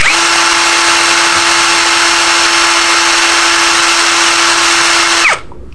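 An NPP impact wrench spins freely at speed, giving a steady, loud, high-pitched electric whine that holds for about five seconds before cutting off abruptly and winding down.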